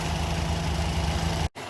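Stump grinder engine drones steadily at a moderate distance while grinding a stump, a constant low rumble with gritty noise that cuts off abruptly near the end.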